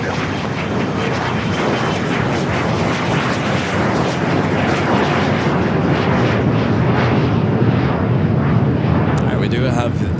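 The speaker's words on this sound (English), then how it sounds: "We do have the A380 British Airways flight 268 heading back to London Heathrow." A British Airways Airbus A380 airliner at LAX airport gives a loud, continuous engine roar that holds steady throughout, with a voice talking over it.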